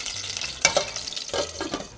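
Whole tomatoes and green chillies frying in a pan for mint chutney, giving a soft, steady sizzle broken by a few sharper clatters and stirring bursts, close and fairly quiet.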